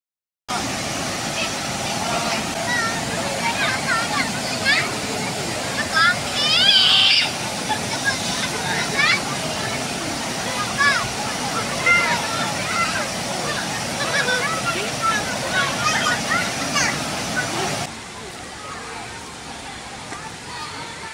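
River water rushes steadily at Kuala Woh forest park, a constant broad wash like a small waterfall. Voices and babble from people bathing sit beneath it, and the sound drops noticeably quieter near the end.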